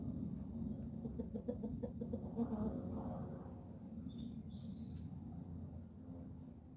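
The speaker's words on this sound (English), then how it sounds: "This little Wyandotte, she's Lily" A Wyandotte hen clucks softly in short murmuring bursts, with a few higher chirps from other birds over low background noise.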